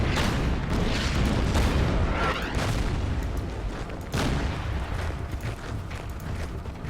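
Artillery fire on anti-aircraft guns in the Order of Battle strategy game, a series of heavy booms and rumbling blasts rolling one into another, fairly loud and fading slightly toward the end, with no talking.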